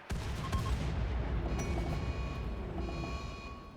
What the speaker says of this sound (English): we are once again unleashing hell with our mortars